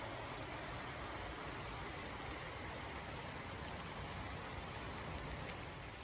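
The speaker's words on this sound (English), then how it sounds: "it's definitely starting to rain harder and harder" Steady rain falls at Bond Brook Cliff, a climbing crag in Augusta, Maine, a dense continuous hiss of drops on rock and foliage that stays loud and even throughout, with no voices.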